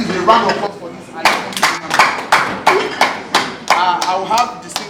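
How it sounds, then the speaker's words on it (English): Audience clapping at a 53rd birthday celebration, heard as a run of separate, uneven bursts of claps and taps that come in rhythmic waves, with a voice talking underneath. "Please, a round of applause for this."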